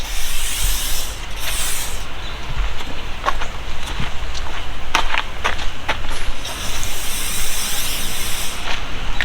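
A 3-in-1 spray lubricant hisses onto the underside of an RV SwingTech slide-out in several loud bursts, with clicks and handling noises between the sprays.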